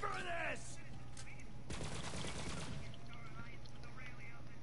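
Rapid gunfire from a video game character's weapons, a dense burst of continuous shots in the middle of the clip over steady game background noise, with short game sounds before and after.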